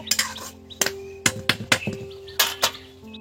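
A spice masala with curd is stir-fried in a pan for a large sea-fish curry, and a spatula knocks and scrapes against the metal in a string of sharp, irregular clanks, close and fairly loud, with no talking.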